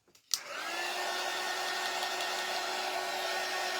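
A small dryer switches on with a brief click and then holds a steady whirring hum with a faint tonal whine, drying handmade Christmas tree stand craft pieces, continuous and close, with no talking.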